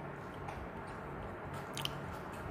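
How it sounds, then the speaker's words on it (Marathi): Quiet crunching bites and chewing of an onion and raw mango salad dressed with coconut oil, chilli and salt, soft and close with one sharper crunch near the end. "कैरी काय मजा येते जेवणाला खरंच दाखवते तुम्हाला सॅलड खाऊन जेवणाला सुरुवात"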